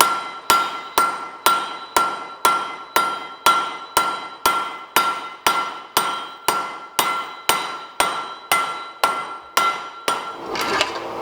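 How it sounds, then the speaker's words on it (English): A blacksmith's hammer forges metal on an anvil in a steady, even rhythm, about twenty ringing blows close by, each with a bright metallic ring. "Your rhythm should be hammering on the piece that you're working on."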